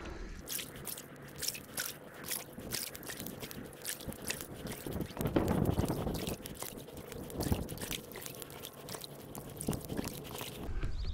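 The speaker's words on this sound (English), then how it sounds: "I'm just going to paddle up this stretch and just speed it up" A paddle repeatedly strokes the water beside a Tomahawk inflatable air canoe, giving a close series of rhythmic splashes and dips with a brief heavier surge midway.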